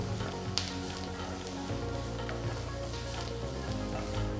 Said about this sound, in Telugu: ఇందులో చిన్నగా తరిగిన మూడు మీడియం సైజ్ ఉల్లిపాయలు వేసి వేయించాలి